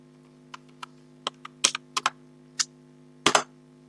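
Keys pressed on a computer keyboard while entering commands in the vi editor, a sparse run of separate clicks and short clusters of taps with pauses between, close and crisp over a faint steady hum.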